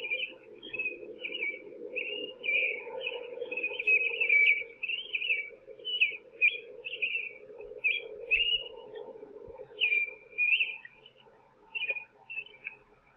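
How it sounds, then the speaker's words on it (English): Birds chirp at 2:45 a.m. beside an apartment complex lit by two big outdoor lights, giving quick, high, whistled calls in irregular bursts over a low steady hum. "The birds chirping at 2:45 a.m."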